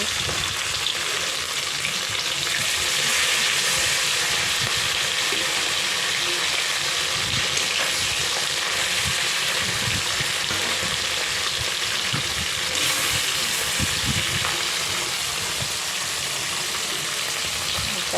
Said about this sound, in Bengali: কড়াই বসিয়ে দিয়েছি আস্তে আস্তে সব মাছগুলো ভেজে নেবো